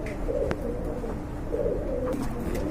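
Large pigeons cooing in a breeding loft, soft repeated coos close by with a light background hum and a few sharp clicks.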